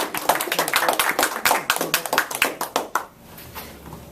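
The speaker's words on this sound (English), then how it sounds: "Big applause, please." An audience at a Toastmasters meeting claps in a brisk burst of close, dense applause that keeps going for about three seconds and then fades quickly.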